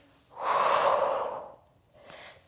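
Breathing during a Pilates core workout: one long, loud, airy exhale-like breath lasting about a second, then after a short pause a second, softer breath, with no talking.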